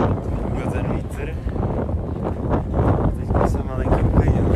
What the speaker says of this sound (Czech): Ta část Krkonoš ještě, funguje ten vítr.